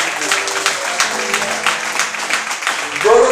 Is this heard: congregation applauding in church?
yes